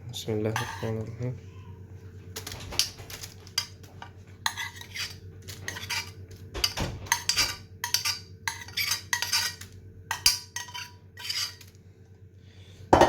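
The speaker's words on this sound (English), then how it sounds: "I'm going to put the apples back in to this bowl" Apples for a homemade apple crumble being tipped back into a bowl, giving repeated clattering knocks and scrapes against the bowl in irregular bursts, close and fairly loud, with a steady low hum underneath.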